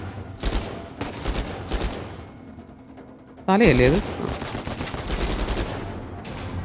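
Gunfire rattles in Uncharted 4 during the prison breakout stealth escape: rapid bursts of shots early on, then a sharper, louder volley midway, while a player talks over the action.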